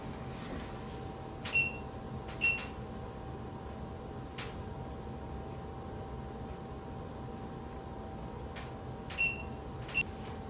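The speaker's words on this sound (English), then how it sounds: "I'm going to set the timer on my oven for about 30 minutes" An oven timer is set with a handful of short, thin electronic beeps, some in quick pairs, spread over a quiet steady hum with no talking.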